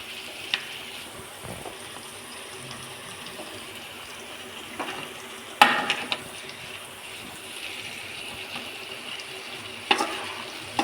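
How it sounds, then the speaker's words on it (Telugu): Sambar frying and being stirred in a pan, a steady close sizzle with occasional scraping spoon clatters at intervals. "ఇలా వేసేసుకొని ఇంకా కలిపెట్టేసుకోవాలి"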